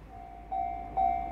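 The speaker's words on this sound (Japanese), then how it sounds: "ちょうど奥から東海道線下り本線を貨物列車がやってきます。" A JR freight train approaches on the down main line of the Tokaido Line, producing a sustained steady tone that swells in two steps as it nears, heard alone without voices.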